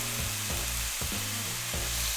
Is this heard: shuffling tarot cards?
no